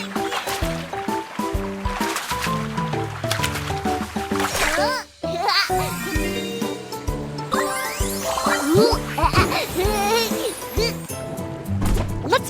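Cartoon water splashes and bright chime effects in a Baby Bus mobile game where fish are caught by repeated tapping, layered over busy game music and a child-like voice.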